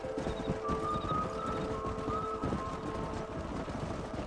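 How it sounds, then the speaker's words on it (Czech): Horses' hooves clip-clop steadily in the Red Dead Redemption video game, several animals walking together in a dense rhythm, with game music tones above and no talking. "Že vypadá to, že tam jdou zatím všichni koni."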